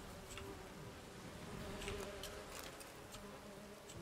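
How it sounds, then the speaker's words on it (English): Bees buzz in The Witcher 3 as a faint, steady insect drone that carries on for a few seconds, with small flickers of other game sounds over it. "Bees!"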